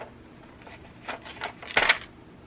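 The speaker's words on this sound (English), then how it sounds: "I'm just going to use my scissors." Scissors cut a paper embellishment in a few short, crisp snips and rustles, the last one loudest and close by, in a quiet crafting setting with no talking.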